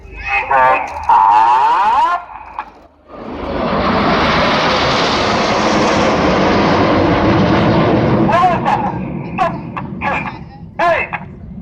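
Red Arrows jets fly in formation at the Sunderland Airshow, a loud, sustained roar that builds and holds for several seconds, with a voice talking before and after it.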